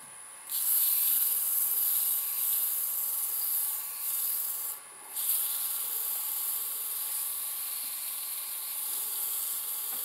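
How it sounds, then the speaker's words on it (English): Sandpaper of 120 grit rubs over chainsaw-turned wood, a steady close hissing scrape that breaks off briefly twice and then runs on with no talk. "So we start off there with 120 grit."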